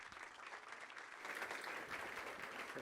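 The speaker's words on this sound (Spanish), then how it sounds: "Lo recibimos con un aplauso." Audience applause greets a guest speaker at a business conference on AI, a steady wash of clapping that swells slightly partway through and continues without any talk.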